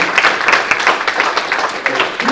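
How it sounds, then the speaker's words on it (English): Audience applause at a House Oversight hearing, steady clapping from many hands filling the room for about two seconds without pause. "let's give a round of applause to our guests here"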